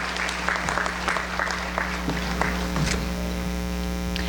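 A crowd at a senior awards ceremony claps for graduating students, with scattered individual claps over a constant electrical mains hum, thinning out partway through.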